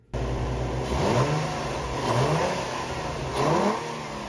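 A Nissan 350Z engine with a cold air intake revs up repeatedly in three short bursts, with a breathy intake roar over the steady idle.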